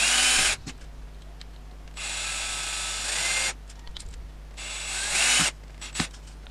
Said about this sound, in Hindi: तो ड्रिलिंग हम लोग करते हैं, एक एक करके सभी को ड्रिलिंग करेंगे।